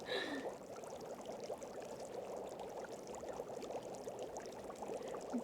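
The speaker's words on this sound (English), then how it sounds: "The boiling water sound is kind of nice." Water boiling in the Nancy Drew: Danger by Design game, a steady soft bubbling and churning that stays faint and constant throughout, with no talk.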